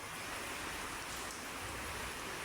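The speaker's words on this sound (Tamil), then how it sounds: "எவ்வளோ வேகமாக எப்படி தண்ணி வருது பாருங்கள்" Steady rainwater rushing from a rooftop pours continuously, a dense hiss like a downpour or runoff gushing nearby, with no breaks or voices.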